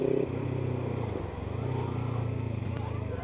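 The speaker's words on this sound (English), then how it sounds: "enough roll of listening to this nice exhaust" A Kawasaki Ninja 300 motorcycle with a Two Brothers exhaust rumbles steadily at idle, a low throbbing burble that stays constant and close throughout.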